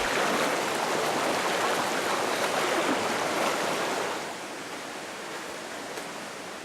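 River stream flowing in a steady, broad hiss of rushing water, loud and close for about four seconds, then settling slightly quieter but still continuous.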